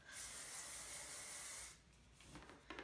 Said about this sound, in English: and then I'll spray it